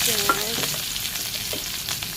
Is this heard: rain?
no